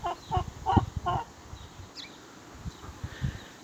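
Chickens in a suburban Canberra backyard garden cluck in a quick, close series of calls, followed by quieter scattered clucks and soft scratching sounds.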